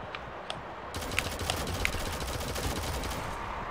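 Rapid gunfire in the mobile shooter Shadowgun Legends, a dense run of sharp cracks with a few louder individual shots standing out, close and continuous over steady game noise, no talking.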